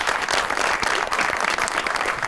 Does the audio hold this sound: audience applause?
yes